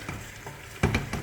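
A short burst of sizzling with a couple of scraping stirs as meat fries in chermoula in a pot for tangia, close and fairly quiet.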